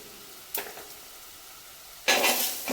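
Ginger and garlic sautéing in a pan, two short bursts of sizzling over a quiet background, the second louder and longer.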